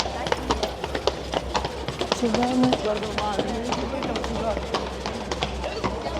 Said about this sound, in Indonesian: Terus ada delman.